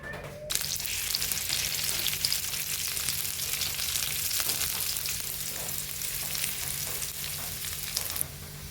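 Chopped onion, garlic, green chillies and dried chillies fry in hot oil, a steady close-up sizzle and crackle that starts abruptly after a brief pause and continues evenly throughout.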